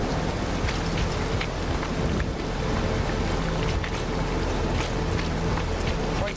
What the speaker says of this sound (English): Rain's got to stop someday.